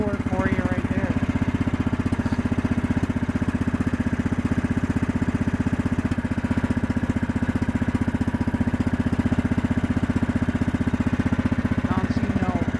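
A Kohler engine on a neglected Yard-King bagger runs after a cold start, a loud, steady, evenly pulsing idle with a rattling clatter that stays close and constant throughout.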